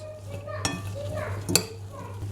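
A spoon stirs an onion, parsley and sumac salad in a bowl, making soft scraping and mixing sounds with a couple of sharp clinks against the dish over a steady low hum.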